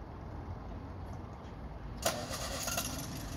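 A restored MG TD engine cranks and fires up, starting under a steady low hum, then catching with a sudden burst into a running, sputtering idle, near and moderately loud, with no talking.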